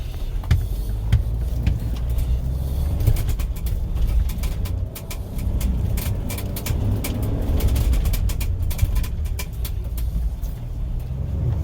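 A 2021 Ford Bronco drives off-road across the Moab desert with a steady low engine drone and heavy rumble from the terrain, over which suspension clunks and gravel knocks tick at irregular intervals.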